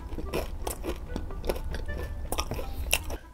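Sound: biting and chewing homemade chocolate

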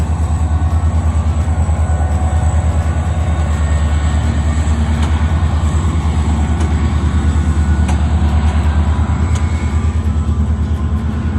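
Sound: small park train passing

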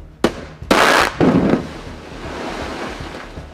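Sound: blasting explosions for avalanche defence construction in Neskaupstaður

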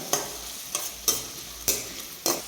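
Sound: onion and green chilli frying in hot oil

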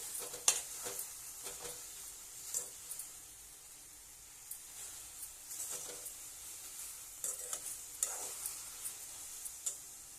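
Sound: ingredients for red chutney being roasted and stirred in a pan

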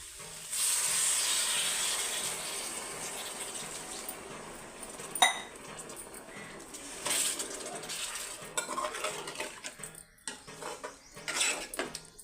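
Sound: water added to hot oil sizzling

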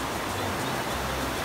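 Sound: waterfall at hot springs, Santa Rosa de Cabal

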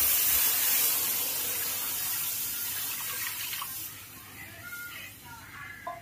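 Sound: pouring water into pan for hot and sour soup

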